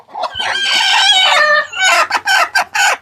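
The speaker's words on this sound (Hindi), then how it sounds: "तो आप देख सकते हो यहाँ पे ये मुर्गी है" Loud, close desi chicken calls on a poultry farm: a drawn-out crowing squawk followed by a run of sharp, rapid clucks.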